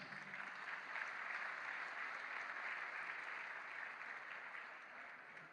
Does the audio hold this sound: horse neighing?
no